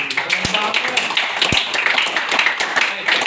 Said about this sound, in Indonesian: Oke, kasih tepuk tangan yang semangat untuk kelompok.